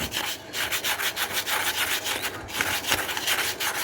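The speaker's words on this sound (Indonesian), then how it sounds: "Kalau ditanya nomor berapa amplasnya, yang halus aja sobat, amplas halus ya." Rapid back-and-forth rubbing of fine sandpaper on a box fan part during maintenance, a steady rhythmic scratching close up with no voices.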